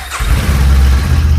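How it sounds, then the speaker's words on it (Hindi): A Kawasaki Ninja 300 motorcycle engine starts up close by, a brief crank followed by a steady, loud, deep idle thump that carries on to the end. "ये आपकी बाइक स्टार्ट हुई"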